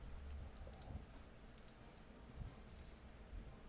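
Computer keyboard typing a message, quiet scattered clicks and taps in short irregular bursts, faint against a low background hum.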